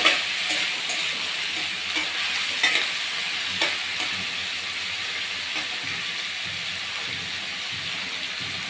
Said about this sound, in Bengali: অল্প করে পেঁয়াজ কুচি দিব। পেঁয়াজটাকে একটু ভেজে নেব।